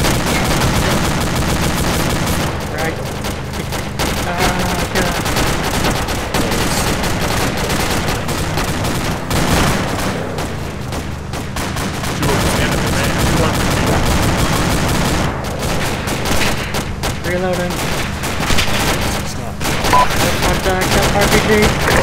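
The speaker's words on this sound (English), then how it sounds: "That gunfire." Sustained gunfire at a roadblock in the video game Arma 2, with rapid automatic bursts and single shots rattling continuously for over twenty seconds, loud and close, with voices faintly underneath.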